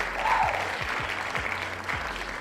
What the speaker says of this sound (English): Got to give a round of applause to that man.